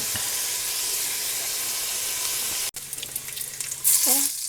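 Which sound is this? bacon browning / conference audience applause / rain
bacon browning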